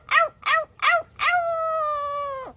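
A parrot mimics a dog howling: three short yelping notes, then one long, steady howl that fades out at the end. It is close, loud and clear against a quiet room.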